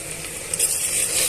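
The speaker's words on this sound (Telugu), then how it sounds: "అల్లం వెల్లుల్లి పేస్ట్ని యాడ్ చేసుకున్న తర్వాత పచ్చివాసన పోయేంత వరకు వేయించుకోండి" Ginger garlic paste frying in a pan with onions and green chillies, a steady high hiss of sizzling oil with a brief stirring scrape partway through, close and unbroken.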